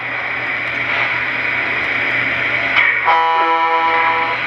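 An electronic horn from a Lionel Southern Pacific 4426 GS3 model train sounds from about three seconds in, a steady chord of stacked harmonic tones over a constant hum and hiss.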